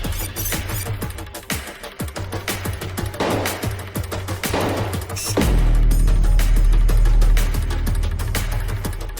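A quick series of loud, sharp gunshots cracks out as an officer fires on a fleeing gunman at a resort, followed by a sustained heavy rumble and ringing noise.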